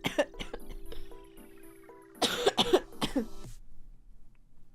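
A person coughs in a few rough bursts, first several quick ones, then a heavier cluster of coughs, close up with a steady tone humming underneath.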